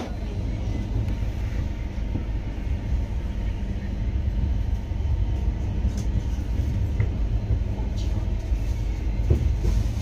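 A passenger train rolls out of Amritsar Junction with a steady rumbling roar and faint rail clatter, continuous and close, with a few light clicks on top.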